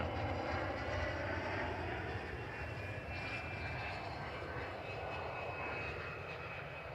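An airliner lands at Manchester Airport, its engine roar a steady, broad, moderately loud rumble that fades slightly, heard from a distance with no voices.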